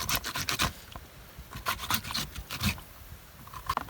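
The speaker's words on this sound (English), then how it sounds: "So we just grating in the juice, grating in the fruits," Ginger and June plum being grated by hand on a rough grater, a series of short, close, rasping scrapes in irregular bursts with brief pauses between strokes.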